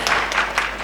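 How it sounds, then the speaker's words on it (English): Applause at a film awards press conference, a short burst of many hands clapping in fast irregular claps, fairly loud and close. "Can we have a round of applause for Bobby?"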